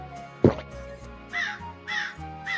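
A crow caws in a few harsh, spaced calls, close and fairly clear, after a short sharp knock, with faint background tones underneath.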